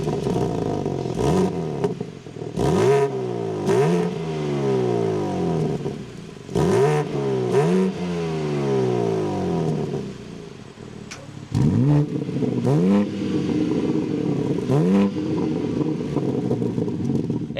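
A 2025 BMW M3 Competition sedan's engine fires up and revs repeatedly, with loud, rising and falling throttle blips in bursts, then settling into a steady idle between revs.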